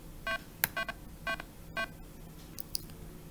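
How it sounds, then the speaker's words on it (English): A temperature monitoring alarm buzzer sounds in short, evenly spaced electronic beeps, five or so bursts in a row, with a couple of sharp clicks, close and moderately loud over a quiet hum. "as soon as it crosses 75 degrees the buzzer starts to buzz and the light becomes red."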